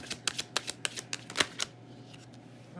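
Tarot cards shuffled by hand in a quick run of crisp riffling snaps, close and quiet, trailing off into near silence.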